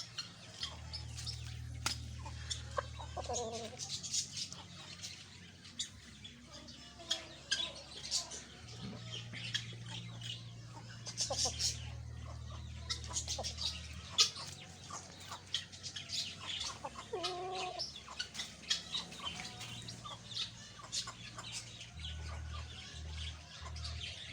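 An Aseel Lasani rooster, a black bird, gives repeated clucks and squawks close by over a constant low hum and background noise, with no talking.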